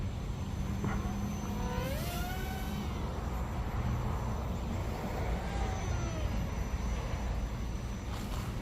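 Buzzing whine of a small SG F-22 Raptor model plane's motor, rising and falling in pitch as it swoops past during a park flight, over steady outdoor wind rumble.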